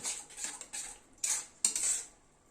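Spice paste for a rohu fish curry is stir-fried over a medium gas flame, giving a few close scraping and clinking strokes of a spoon against the pan, with quiet pauses between them.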